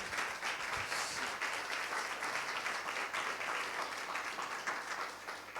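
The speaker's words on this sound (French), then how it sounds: "Un très très grand merci à Eric et Sarah qu'on peut applaudir très chaleureusement." Dense, steady applause from a sizable webinar audience fills the room without pause, many hands clapping at once.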